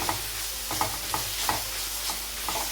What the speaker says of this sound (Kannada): ಕ್ಯಾರೆಟ್ ಎಲ್ಲ ಸಾಫ್ಟ್ ಆಗೋ ಥರ ಸಾಫ್ಟ್ ಆಗೋವರೆಗೂ ತಿರುಗಿಸ್ತಾ ಇರಬೇಕು